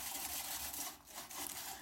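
Steady abrasive rubbing of sanding on a car's engine bay, a continuous scratchy hiss that dips briefly midway before resuming.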